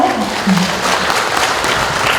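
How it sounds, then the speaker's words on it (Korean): An audience applauds at a photography talk and mini concert in a Seongnam gallery. Brief, fairly loud, even clapping from a crowd fills the space for a couple of seconds, with a faint voice murmuring near the start. "박수 한번 주세요"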